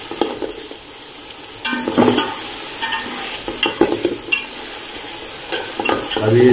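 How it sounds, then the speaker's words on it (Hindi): Boiled eggs fry in spices in a pan for a potato and egg biryani, with a steady sizzle under repeated scraping and clattering stirring strokes. "अभी इसको 1 से 2 मिनट हम इनको फिर फ्राई करते हैं।"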